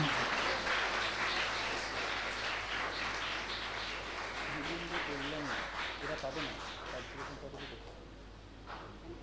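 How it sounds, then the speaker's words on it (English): Audience applause at an inter-school science quiz for the competing schools, with broad, steady clapping filling the hall throughout and voices talking over it. "Can we have a big round of applause for the schools"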